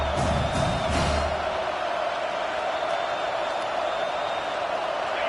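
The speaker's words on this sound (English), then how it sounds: "how nice is it to have the home crowd going absolutely bananas" A home crowd at a South Carolina football game roars continuously and loudly, a dense wall of cheering with scattered shouts and whoops, no pause throughout.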